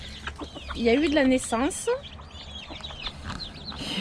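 Chickens cluck in a backyard poultry yard, close and fairly loud, with a few rising calls while a person speaks French at times.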